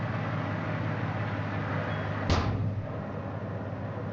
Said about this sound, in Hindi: अब देखिए मैं दरवाज़ा बंद करूँगा तो क्या होगा,